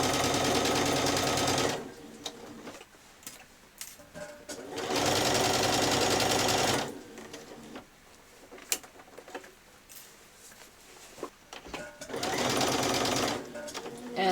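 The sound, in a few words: sewing machine stitching a seam on a child's dress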